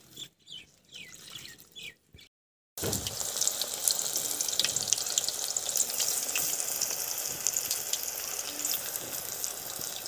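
Spinach pakoras in batter fry in hot oil: after a few quiet, scattered sounds and a brief pause, a loud, continuous crackling sizzle with popping bubbles fills the rest.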